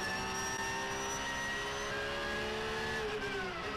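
Porsche and BMW GT race cars at the Nürburgring 24 Hours, engines droning steadily at high revs as they run close together, with a slight pitch drop near the end; loud and continuous, no talk.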